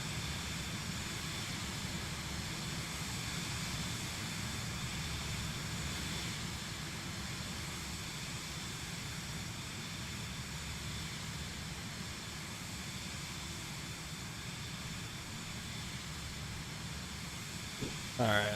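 Steady loud drone of a light aircraft engine in Microsoft Flight Simulator 2024, heard from outside the plane while flying over a lake, continuous broadband roar with a brief bump at the end.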